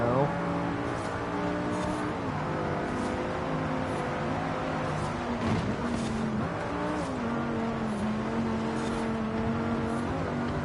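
A car engine in a first-person racing video game drones steadily with shifting pitch through gear changes, with occasional tire squeal, mixed under a person talking.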